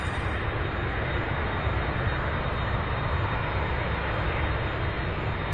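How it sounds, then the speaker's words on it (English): A McDonnell Douglas MD-11 jet taxiing at Louisville International Airport gives off a steady, loud, broadband engine roar that holds evenly throughout with no talk over it. "We have the MD-11 now taxiing over."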